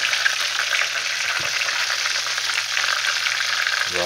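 Chicken deep-frying in hot oil, old-school country style, with a loud, dense, continuous bubbling sizzle close by and no voices.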